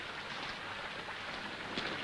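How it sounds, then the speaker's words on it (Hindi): Heavy rain pours in a steady, dense hiss without pause, a continuous wash of water with no voices over it. "बारिश को तो देखो, 7 दिन हो गए, एक पल को भी नहीं रुकी"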